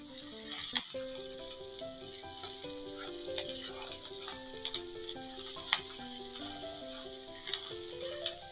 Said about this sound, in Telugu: అదే ఆయిల్లో మనం కొంచెం ఆనియన్ ఫ్రై చేసుకుందాం